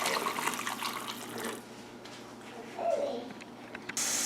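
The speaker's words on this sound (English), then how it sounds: "wash out the pot to get any of this scummy stuff off of the pot" Tap water runs into a cooking pot while it is rinsed out in a kitchen, a steady splashing flow that eases off midway, then returns in bursts.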